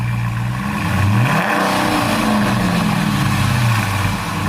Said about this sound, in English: Rev it a little, Marty.